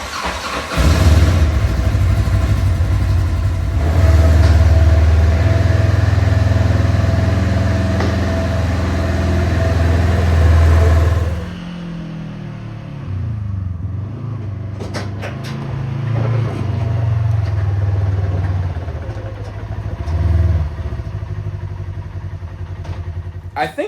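A Polaris RZR side-by-side engine loads onto a trailer, with a loud close mid-pitched drone that rises and falls and then drops to a rougher, quieter idle with knocks and clatter.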